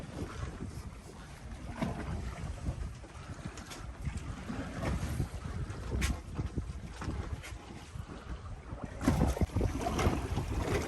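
A 27-foot sun deck boat motors along off Saint Petersburg, Florida, with steady engine rumble and gusting wind buffeting the microphone, water splashing intermittently; no voices.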